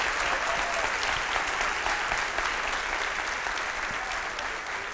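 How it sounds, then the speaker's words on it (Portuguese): A church congregation applauds steadily during a worship service, a dense, continuous wash of clapping from many hands that holds at an even level without pause. "Aplauda com alegria e mais forte ao Senhor."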